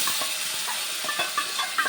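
Sago pearls tipped into a pan of hot curry leaf tempering sizzle with a steady, bright hiss close by, broken by small crackles and light scraping taps, with no voices.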